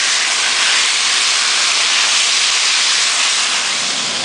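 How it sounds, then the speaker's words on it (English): Beef and oyster sauce sizzling hard in a wok, a loud, unbroken, close-up hiss filling the whole short stretch with no talking. "we can return the beef to the wok and then add in the sauce"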